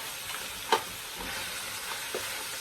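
Pimento, pepper and garlic browning in a pot while being stirred, a steady soft sizzle with a few faint scrapes of the spoon and no talking.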